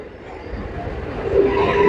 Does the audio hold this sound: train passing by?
yes